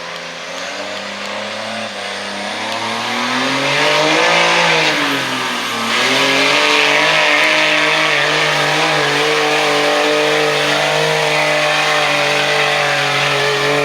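The engine of a red Dodge 2500 pickup roars in a long, loud pull at a county fair truck pull, its pitch rising and dipping before holding a sustained heavy drone, with no talk.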